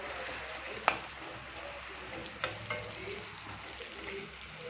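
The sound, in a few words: onions sautéing in oil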